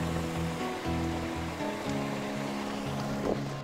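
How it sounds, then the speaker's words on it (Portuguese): River water rushes steadily past prayer wheels on a Himalayan trek toward Everest, a continuous loud flowing wash with a rhythmic low churning that pulses and pauses, no voices. "Aqui, a água do rio move as rodas"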